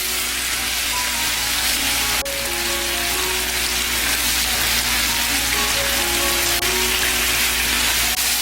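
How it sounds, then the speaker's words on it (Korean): Tofu, cherry tomatoes and seasoning sauce being stir-fried over high heat give a loud, steady sizzle like heavy rain, close and continuous, while faint tonal sounds drift in the background. "센 불에서 볶아주세요."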